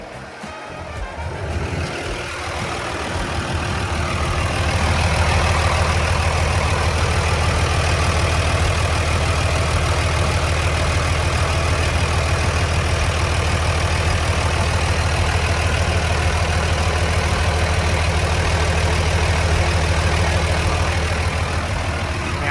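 A Komatsu WA200-1 wheel loader's diesel engine idles steadily with a deep, constant rumble, starting up and settling into a loud, even drone with no voices.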